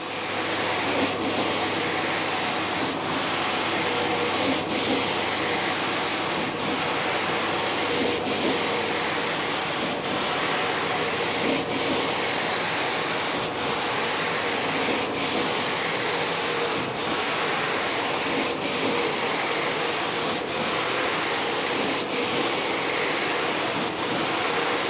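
A Graco HVLP 9.5 spray gun sprays undercoat in a small workshop, giving a loud, continuous hiss with a turbine-like drone beneath it. Faint regular ticks recur about every two seconds, and no one speaks.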